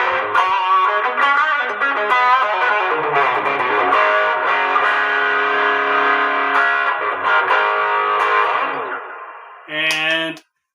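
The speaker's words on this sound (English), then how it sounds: "Now this is the tube screamer side of the JHS pedal." Electric guitar runs through the Tube Screamer side of a JHS overdrive pedal, playing loud, crunchy sustained chords and notes that gradually fade before a short final strum, with no talking.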